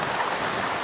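Heavy monsoon rain in Saharanpur, Uttar Pradesh, falls as a dense, loud, unbroken hiss of downpour with no voices.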